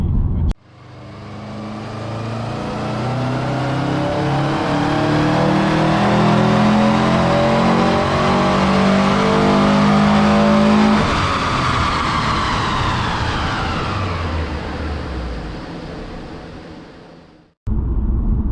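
A 2007 Subaru Legacy Spec B engine revving hard on a dyno, a loud, steady climbing roar that holds for many seconds and then winds down before cutting off, with no talking over it.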